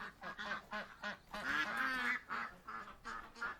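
A goose called Tiny, kept among a flock of domestic ducks, gives a drawn-out honk in the middle of repeated close quacking, with short calls before and after.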